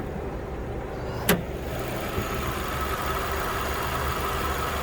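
Engine of a 2017 Nissan Rogue SV idling with the hood open, a steady low hum and broad rumble heard up close, with one brief click partway through.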